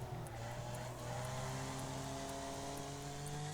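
Race car engines in the Wreckfest racing game drone steadily during an overtake on the outside of a corner, with sustained tonal whine rising in pitch and faint tire noise, no talk.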